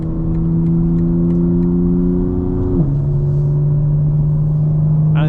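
A 2025 BMW M4 Competition engine drones loudly and steadily, its pitch dropping sharply midway as it shifts into a deeper, throatier rumble with the exhaust valves open.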